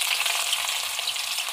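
Sliced onions fry in 1.5 cups of hot ghee, with a dense, loud, continuous sizzle and crackle from start to finish and no voices.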